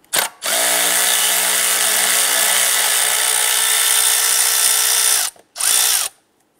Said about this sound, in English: Use a 10 millimeter socket, loosen and remove this bolt.